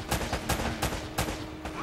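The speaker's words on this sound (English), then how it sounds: "Shooting!" Rapid gunfire in the Uncharted: Drake's Fortune action game, a burst of sharp, loud shots in an irregular rhythm, with game sound and some voice beneath.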